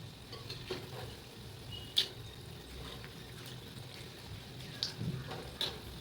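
Mysore bonda frying in oil on a medium flame, a quiet steady sizzle with a few sharp crackles and pops scattered through it, no voices.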